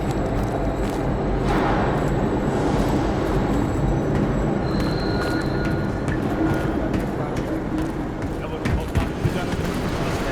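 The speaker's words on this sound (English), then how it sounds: "We can use a train to slip past." A train passes through an abandoned East German subway station in Call of Duty: Black Ops Cold War, heard as a loud, continuous heavy rumble that lasts the whole stretch with no clear breaks.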